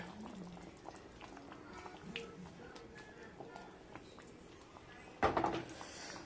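A pot of fish curry simmers with faint, steady bubbling, then a brief louder clatter near the end.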